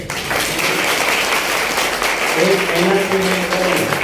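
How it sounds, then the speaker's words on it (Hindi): A church congregation breaks into loud, continuous clapping during a sermon, and a voice rises over the applause in its latter half. "ताली तो बजाइए"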